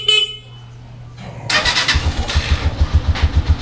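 Electric starter of a Honda TMX 125 Alpha motorcycle after a battery change: a brief click and whir, then the engine catches quickly and settles into a loud, steady, rhythmic idle close by.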